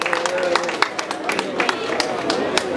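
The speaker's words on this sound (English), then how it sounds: "You clap for yourself." An audience at an evening music-industry gathering claps in scattered, uneven bursts, with crowd murmur and a voice talking over the applause.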